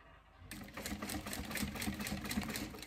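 Sewing machine running steadily at a 3 stitch length while slowly stitching a curve, starting after a half-second of quiet with a continuous, close, rhythmic whirring hum.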